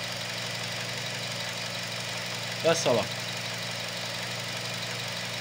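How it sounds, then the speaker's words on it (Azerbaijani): A car engine idling steadily, a low, even drone throughout, with a brief spoken phrase partway through. "Deməli, avtomobili işə saldım, motor işləyir gördüyünüz kimi"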